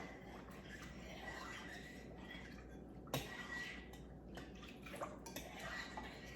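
Rubbing alcohol and Dawn dish soap slosh and swirl in a container, with faint clinks and a sharp knock partway through; quiet and close.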